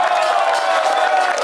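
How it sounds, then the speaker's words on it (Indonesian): Audience at a Balinese Kecak dance performance in Bekasi, clapping and cheering in a steady, dense wash of crowd noise with scattered whoops, continuous and fairly loud throughout. "Tepuk tangan sekali lagi ya"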